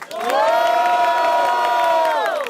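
A loud crowd at a rap battle in Rio de Janeiro roars and cheers together in one sustained burst of shouting and whooping, swelling quickly and holding for a couple of seconds.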